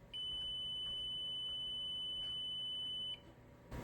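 A computer system booting from its DOM gives one long, steady electronic beep lasting about three seconds, clear and piercing over a low hum of fans, followed by a brief burst of noise.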